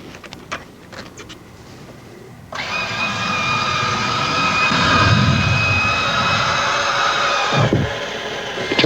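An F-16C jet engine spools up to a loud, steady whine with a broad rushing roar, after a few faint clicks, and holds near and continuous until it briefly drops at the end.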